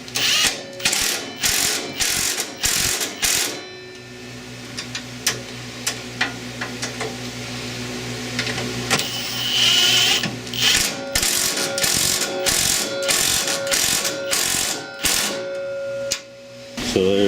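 A hand ratchet tightens a part on a Toro TimeCutter MAX zero-turn mower, giving quick bursts of loud close clicking separated by pauses and a mechanical hum in the middle.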